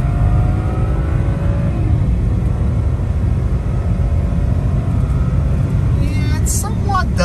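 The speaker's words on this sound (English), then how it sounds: "let me show you again kind of like how it accelerates with this code being present" A BMW with a reduced-power engine fault code accelerates in regular drive mode, giving a steady, loud engine and road rumble throughout, with a brief higher whine near the end.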